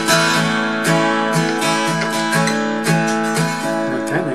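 Electric guitar plays a song's intro riff at full speed, bright ringing picked notes in a quick repeating pattern, close and clear with no talking.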